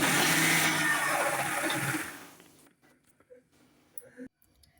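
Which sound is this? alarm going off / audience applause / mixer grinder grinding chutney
mixer grinder grinding chutney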